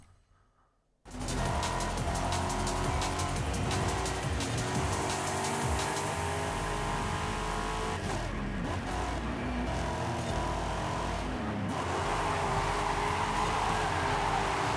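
Race car in Forza Horizon 5 cornering, with a loud sustained engine roar and tire squeal that starts abruptly after a brief quiet moment and holds steady throughout, close and continuous.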